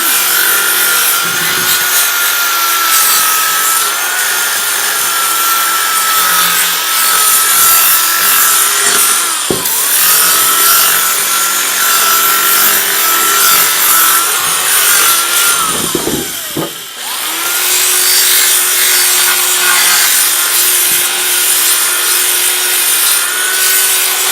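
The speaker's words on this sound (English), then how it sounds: "We're going to start sanding." Steady, continuous abrasive rubbing against wood, loud and close, running without pause apart from a couple of brief breaks.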